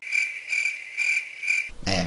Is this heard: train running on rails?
no